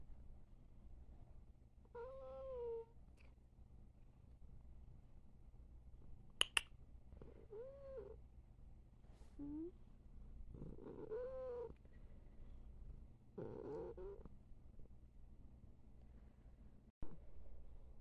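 A small kitten purrs softly at close range, its quiet rumble broken by several short, high meows and a few sharp clicks in an otherwise still room.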